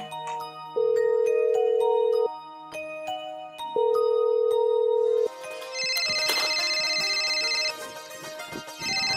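A phone ringtone plays while a call is placed to a father, a clear melodic tune repeating in long sustained tones, then a busier burst of jingling tones near the end.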